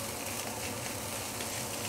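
Fried rice stir-fried with canned five-spice pork cubes in a hot pan, a steady close sizzle and crackle of frying held level throughout with no talk.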